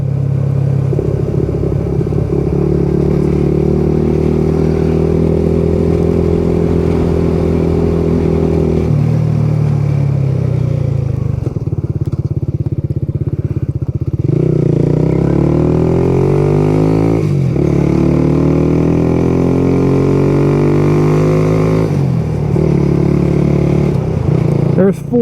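A Kawasaki Z125 Pro motorcycle fitted with an O2 eliminator accelerates in fourth gear on a road, its engine droning loud and close with rising pitch through repeated roll-ons, under heavy wind noise.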